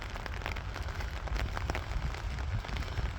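Steady, dense rain falls outdoors in England and patters close by on surfaces in an even, continuous hiss, with no clear talking.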